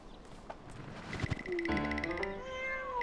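A plump cat meows alone, a drawn-out rising-and-falling call that starts faint and swells into a loud, close wail.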